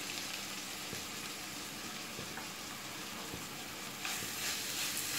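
Onion, grated ginger and chopped vegetables frying in a pan for veg masala momos, a steady crackling sizzle with light stirring scrapes, growing slightly louder near the end.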